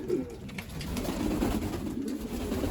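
Pigeons in a pigeon loft with young squabs, soft low cooing rolling on continuously nearby amid faint rustling, no one speaking.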